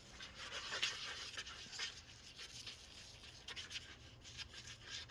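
A sanding block rubbed in quick circles over a football helmet's surface during refinishing gives a steady, close, raspy scrubbing with brief louder strokes, alone and without talk.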